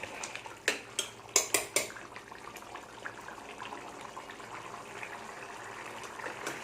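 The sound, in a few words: stirring stew in a pot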